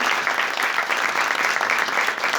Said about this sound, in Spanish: a la candidata Florencia Lambreave, a quien recibimos con un fuerte aplauso acá en la casa, en el Instituto Patria.